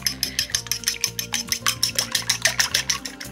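Rapid, rhythmic clinking of a utensil whisking beaten eggs against a bowl, steady strokes at about five per second, close up with no talk.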